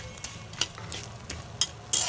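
Dried fish frying in oil in a pan, a soft continuous sizzle broken by several sharp scrapes and clicks as it is stirred, close up with no talking.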